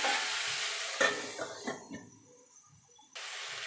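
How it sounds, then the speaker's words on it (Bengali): Vegetables for a katoa stalk curry sizzle in a hot pan, with a steady frying hiss, a few sharp scraping stirs and clinks of a utensil, a brief quiet lull, then the sizzle rising loudly again. "এবার ঢাকা দিয়ে দিয়ে সবজিটাকে একটু ভাজা ভাজা করে নেব।"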